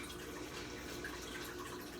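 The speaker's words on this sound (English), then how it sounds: "I'm gonna add a little bit of water to this and shake it up" A little water poured into a container holding cooked peppers and onions, a faint, continuous trickle and splash heard close up, quiet and without voices.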